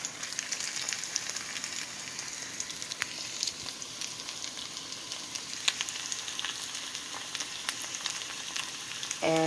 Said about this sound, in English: I don't know if you can hear it sizzle.